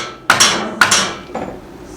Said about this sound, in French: ce signal sonore permet au sagar que la machine arrive à la fin du sciage